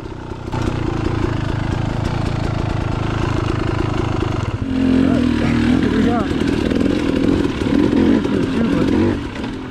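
A 250 TPI two-stroke dirt bike ridden on a rocky off-road trail loop, its engine buzzing steadily throughout and rising to a louder, revving pitch in the second half, close to the listener.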